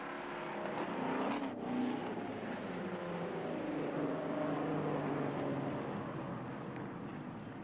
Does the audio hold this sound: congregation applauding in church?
no